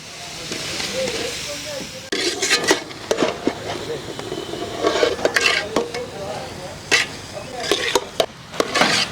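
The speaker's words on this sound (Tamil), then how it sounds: "இன்னும் நல்லா மசிகிற அளவுக்கு நல்லா வதக்கி எடுத்துக்கலாம்." Tomato and fried brinjal sautéing together in a pan, stirred until mashed: a continuous hiss and sizzle with repeated spatula scrapes and clanks against the metal, which grow busier after a short quieter opening.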